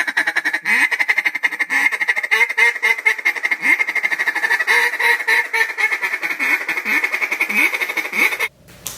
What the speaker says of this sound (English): That is a machine gun feeding chuckle.